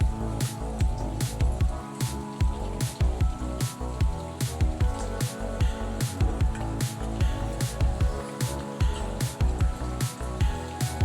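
Vegetable and mutton curry is stirred with spices in a pot, making steady, close, loud squelching strokes that repeat in a regular rhythm with no talk.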